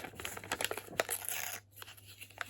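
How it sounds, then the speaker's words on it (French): Paper sheet torn by hand along its edges, a run of short ripping bursts with brief pauses, close and fairly quiet, ending in a near-silent gap before a few softer tears. "On déchire les bords de la feuille."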